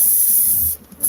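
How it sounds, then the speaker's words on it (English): Spray adhesive hisses loudly and close from an aerosol can, a steady burst that briefly cuts out and then resumes, with no voices. "spray adhesive."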